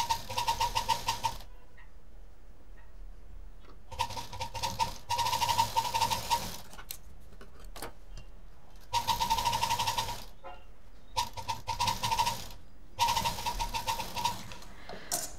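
A sewing machine runs double stitching on a beaded mobile pouch, its rapid mechanical rattle coming in several short bursts separated by quiet pauses, close and moderately loud.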